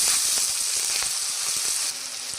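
Steady, loud sizzling of spices frying in hot oil, with faint scraping stirs ticking through it from start to finish.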